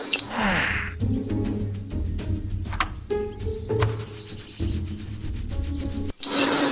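A toy dinosaur figure is scrubbed clean, giving close, repeated rubbing and scraping strokes in an uneven rhythm, with no voices.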